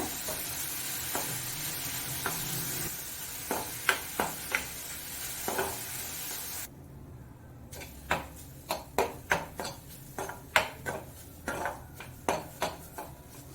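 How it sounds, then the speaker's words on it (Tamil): Grated carrot and beetroot sautéed on low flame in a pan for carrot payasam, with a steady soft sizzle, a brief quieter gap midway and repeated sharp scraping and stirring taps of a utensil against the pan, close and alone. "லோ ஃப்ளேமில் வச்சு அதோட பச்சை ஸ்மெல் போக வதக்கிக்கோங்க"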